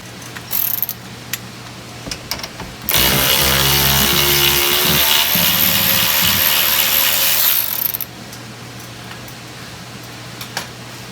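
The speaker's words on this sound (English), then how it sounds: "get these top 3 15 millimeter strut bolts out, take the nuts off" Power ratchet running on 15 mm top strut bolts of a Ford F-150 front suspension, one loud sustained whirring burst of about five seconds, with soft clinks before and after.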